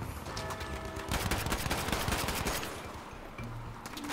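Rapid bursts of MAS 44 rifle gunfire in Battlefield V crackle in quick succession, dense shots with brief gaps, like video game combat.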